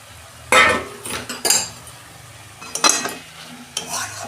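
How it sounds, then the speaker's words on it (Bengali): Potatoes and prawns tumble into a hot pan for a Bengali banana-flower prawn dish, giving several loud bursts of sizzling and frying with spatula scrapes and clinks against the pan. "এই যে আলু আর চিংড়ি মাছটা আমি একসঙ্গে দিয়ে দিচ্ছি।"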